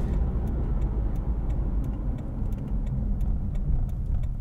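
A Toyota 4Runner travels a rough dirt road, heard from inside as a steady, loud low rumble of engine and road noise with faint light ticks and rattles scattered over it.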